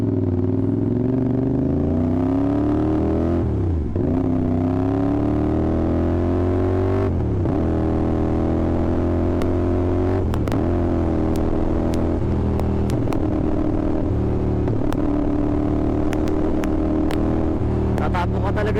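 A CF Moto NK450 motorcycle engine revs under the throttle, rising and falling in pitch through several bursts, loud and close, with a steady engine drone between the revs.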